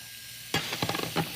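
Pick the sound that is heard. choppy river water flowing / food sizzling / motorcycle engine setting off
food sizzling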